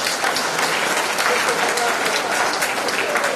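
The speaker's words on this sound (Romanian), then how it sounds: "să-l aplaudeți și voi!" Sustained applause from an audience at a Women's Day party held by a local political party organisation, dense steady clapping filling the room.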